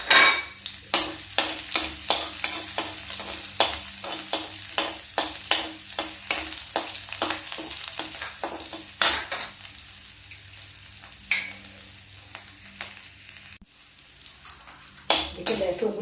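Garlic and chili frying and stirred in hot mustard oil, a steady loud sizzle broken by repeated spoon scrapes and clinks against the pan, with the sizzle continuing alone near the end.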